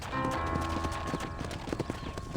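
Horse hooves clip-clop steadily in the Western video game Red Dead Redemption, a close, even trotting rhythm with faint background ambience and no talk.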